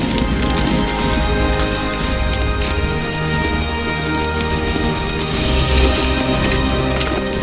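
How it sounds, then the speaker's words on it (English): A sled dragged over rough Greenland ice in the worst ice conditions on record, giving a loud, continuous scraping and grinding with crackling, splintering textures and no voices. "now it's just dragging the sled as I've been doing on the North Pole and the South Pole"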